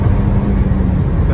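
A Toyota Corolla's engine hums loud and close as the driver accelerates, a dense low drone from inside the car over the brief moment.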